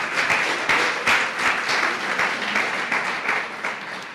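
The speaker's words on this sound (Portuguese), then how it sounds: "Dê uma salva de palmas." A church congregation claps during a Portuguese-language service, a close, lively burst of applause with distinct rhythmic hand claps standing out in the crowd, tapering slightly toward the end, with no speech over it.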